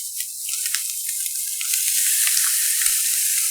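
Radish kimchi (kkakdugi) sizzles steadily in a hot pan, a bright, close hiss with small crackles that swells slightly as it goes on, with no voices.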